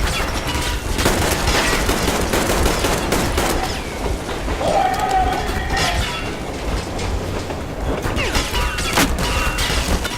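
Gunfire in the video game Metro Exodus, rapid loud bursts of shots over a rumbling train-like clatter, dense and continuous for about ten seconds.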